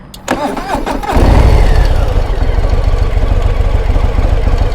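A 2025 Harley-Davidson Low Rider S is fired up with its one-touch starter: a brief crank catches into a loud, close, throbbing idle that keeps running steadily.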